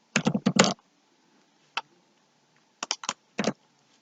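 Bursts of rapid clicking keystrokes on a computer keyboard, a quick cluster at the start, a single stroke, then a few short groups separated by quiet pauses, close and clear.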